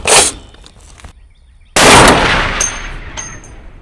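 Two loud, close .50 caliber rifle shots fired at a target outdoors, each a sharp blast followed by a fading rumbling echo, with clanging impacts ringing after the second.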